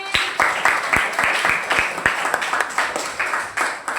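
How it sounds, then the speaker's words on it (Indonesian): Applause for a student in a classroom: a group of people clapping in a brisk, scattered rhythm of sharp claps, moderately loud and close, lasting throughout. "tepuk tangan untuk si Clement."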